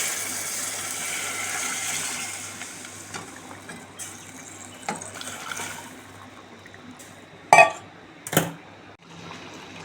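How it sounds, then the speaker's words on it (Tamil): Strained prawn-head stock poured into a pan for prawn-head rasam, a soft continuous trickle and splash over a faint low hum, with a couple of sharp clinks of a metal vessel near the end. "இந்த மண்டையை அவிச்சு இறுத்து வச்சுருக்கோம் அந்த தண்ணியை அதில் ஊற்றிக்கிடுவோம்"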